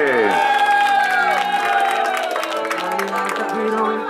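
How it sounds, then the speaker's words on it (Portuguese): A lively crowd gathered at a park for a surprise wedding-anniversary celebration breaks into cheering, whoops and clapping, loud and close, with shouted voices and a sung or sustained vocal tone mixed over the applause. "Palmas pra ele!"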